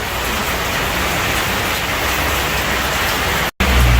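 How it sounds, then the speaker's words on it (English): Heavy rain falls in a constant loud hiss of pattering drops, close and enveloping, broken by a brief cut of silence near the end before resuming. "And the rain continues."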